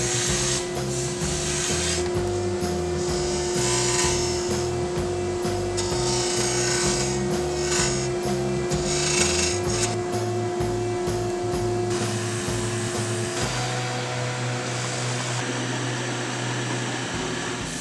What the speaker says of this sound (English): And now we're going to go over to the lathe.